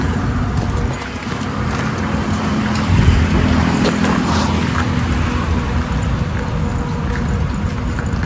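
A car driving toward a resort through jungle, a steady engine and road drone heard from inside, loud and continuous with a brief bump partway through.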